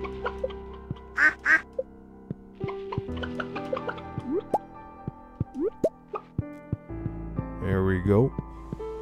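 A grown duck in the video game Stardew Valley gives a few short quacks among plinking drips and soft game sounds, close and moderately loud, with speech present.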